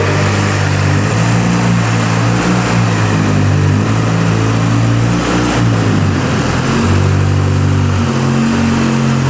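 A Mini car engine idles and revs loudly and continuously as the car creeps slowly up onto ramps, with the pitch rising and falling as the throttle changes.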